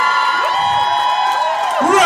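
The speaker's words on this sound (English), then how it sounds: "Round of applause." A loud crowd cheers and whoops for the Estrellitas de Sorto dance group, with sustained voices and high rising shouts.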